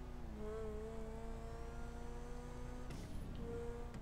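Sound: car exhaust sound in a mega ramp video game

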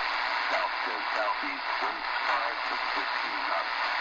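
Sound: shortwave radio upper sideband weather station signal, Eton Grundig G5

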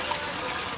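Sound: water gushing from opened taps fed by a home water pump

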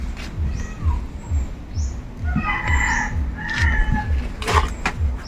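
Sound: chicken

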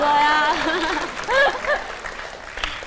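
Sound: studio audience applauding

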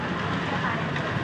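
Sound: diesel train ride to Samut Sakhon

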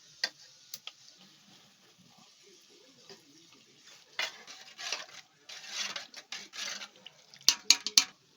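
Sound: spices stirred into onion in a pan on a wood stove

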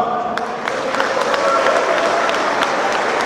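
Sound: audience applause

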